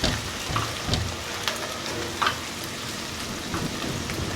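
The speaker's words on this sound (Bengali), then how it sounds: "এর মধ্যে দিয়ে দেব ভেজে রাখা পটলগুলো। এবার আমি ভালো করে নেড়ে নেব।" Fried pointed gourd and potatoes stirred in a pan, a steady sizzle with soft scrapes and clinks of the spatula at intervals, close and moderately quiet.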